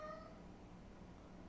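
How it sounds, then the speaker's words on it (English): A cat gives one short, faint meow near the start, fading quickly into a quiet room with low background hiss and no talking. "There's a cat actually around me."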